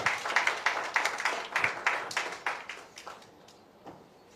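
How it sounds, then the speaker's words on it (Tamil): A crowd at a single-album launch event claps to welcome an arriving guest. The applause is lively and fairly close at first, then thins and fades over the last second or so. "ஒரு பலத்த கைத்தட்டல் கொடுத்து சார் வந்து வெல்கம் பண்ணிடலாம்."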